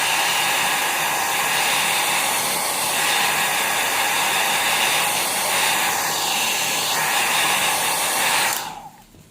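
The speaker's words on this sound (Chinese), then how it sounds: "还是不太干，继续吹它。" A hair dryer blows steadily and loudly at close range, drying a freshly painted Chinese ink-and-colour flower painting, then cuts off abruptly near the end.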